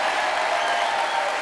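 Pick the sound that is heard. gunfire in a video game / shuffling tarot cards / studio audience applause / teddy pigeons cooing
studio audience applause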